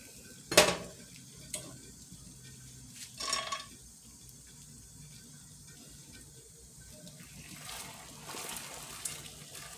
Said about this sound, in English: just give it a quick little stir